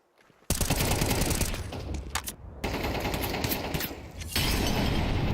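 Loud, rapid automatic gunfire from a Counter-Strike match in the Fall Groups 2024 tournament, firing in dense sustained bursts with a brief break partway through, no voices over it.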